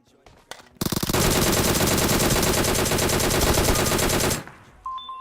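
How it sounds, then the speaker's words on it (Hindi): A DP-28 machine gun fires in PUBG Mobile as one loud, sustained burst of rapid shots lasting about three and a half seconds, with brief quieter sounds before and after. "तो हमारे भाई यहाँ पे हमें DP28 देते हैं और मैं उठा के कतई रिलोड पेल देता हूँ।"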